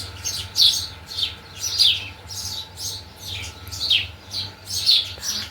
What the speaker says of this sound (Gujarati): ત્યાં મસ્ત મસ્ત કોયલ બોલે છે